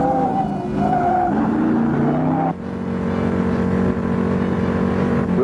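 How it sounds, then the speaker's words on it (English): A Torino Cobra Jet with a 429-inch engine drifts through turns on a track, tires screeching in long wavering squeals over a loud engine roar, close and sustained. "bring it through the turns with accelerator, power on, and rubber smoking in a four-wheel drift"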